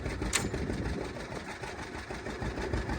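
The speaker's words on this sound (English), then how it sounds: "Let's see what happens if we raise the hitch." A John Deere G tractor, hitched to a John Deere B, runs as it raises its 3-point hitch. A steady, close, low chugging engine idle continues throughout with no talk.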